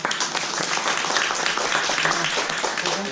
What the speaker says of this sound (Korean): 박수로 한번 주세요.